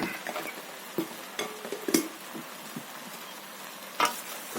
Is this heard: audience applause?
no